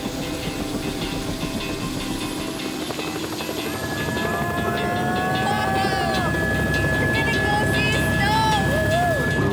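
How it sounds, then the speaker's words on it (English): A helicopter carries passengers up to a glacier near Whistler, its engine and rotors producing a loud, steady roar that fills the cabin and builds slightly, with faint tonal chirps riding over the continuous noise. "We were taken on a helicopter ride up to a glacier."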